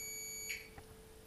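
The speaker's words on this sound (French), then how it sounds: "Ça bip." A single short, high electronic beep from a Ford Fiesta Mk2 Zetec injection wiring harness being tested, faint against a low steady hum, followed by a soft click.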